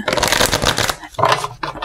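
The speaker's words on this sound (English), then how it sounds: "I need to shuffle some more." Tarot cards being shuffled by hand, a dense papery riffling that runs for about a second, pauses, then returns in two shorter bursts, close and fairly loud.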